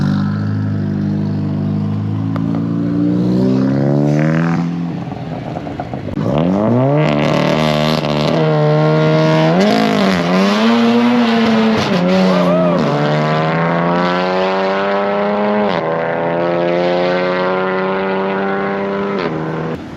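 A loud four-wheel-drive drag car's racing engine revs hard and climbs through its gears at a raceway, the roaring pitch rising and falling as it launches and slides, heard up close.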